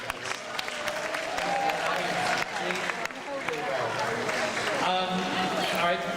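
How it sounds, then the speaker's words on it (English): An audience at a TV Guide convention panel at San Diego Comic-Con 2010 claps and cheers in a loud, sustained burst while a voice talks over the crowd through the applause. "Give yourselves a big round of applause"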